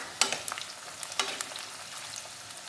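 Crackling sizzle of stuffed round gourds (tinda) frying in a pan, with sharp scraping and stirring clicks breaking in now and then; close and fairly quiet, no talking.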